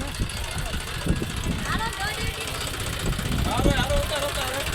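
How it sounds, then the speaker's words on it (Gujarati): A tractor engine chugs and rumbles close by with a steady knocking throb as it drives off, while people talk over it. "જો ટ્રેક્ટર જાય છે હવે."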